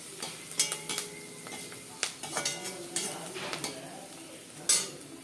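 Onions and spices with turmeric and chilli powder sauté in a pan for beetroot curry, a steady soft sizzle broken by repeated scraping stirs and sharp metal spoon-on-pan clinks, close and without talk.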